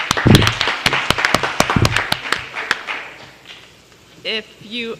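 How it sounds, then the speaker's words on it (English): Scattered hand claps from a small group at a city council meeting, brief and uneven, fading out after a few seconds; a couple of short voice sounds follow near the end. "So you all deserve a round of applause."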